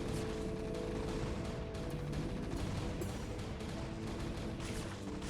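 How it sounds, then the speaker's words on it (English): Carriers' interceptors fire in a steady, dense barrage of small gunfire-like pops and bursts during a real-time strategy battle, loud and continuous throughout with no talk. "These interceptors are sort of just aimlessly firing around."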